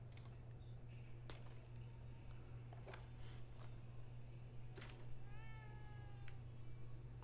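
During play of the horror game The Evil Within 2, a cat meows several times as short, scattered calls over a constant low hum, faint and fairly close, with no talking.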